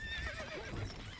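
A short horse neigh in a video game rises and falls quickly, a brief whinny set against a low background rumble, with no voices.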